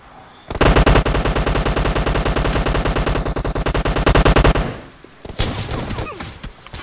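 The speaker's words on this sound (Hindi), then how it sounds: "एक हाथ में शॉटगन ले लो और क्या। शॉटगन तो है। रुक चला के देखता हूँ।" A shotgun fires in a video game as a loud, rapid, evenly spaced burst of shots lasting about four seconds, followed by a brief pause and a few scattered clattering impacts.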